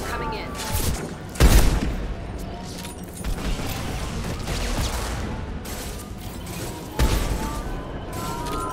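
Gunfire from a Mass Effect battle, with sharp loud bursts standing out near the start and again near the end over a dense, continuous clatter of combat noise.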